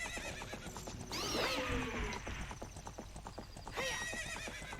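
In the 1998 video game The Legend of Zelda: Ocarina of Time, a horse gallops with a steady, rapid clip-clop of hooves and whinnies twice over a constant game background.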